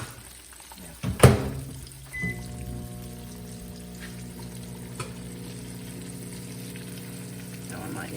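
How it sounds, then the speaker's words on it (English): Sliced green tomatoes fry in a hot pan with a steady, soft sizzle. A sharp clatter comes early, then the crackling and bubbling run on evenly. "They're frying up very pretty."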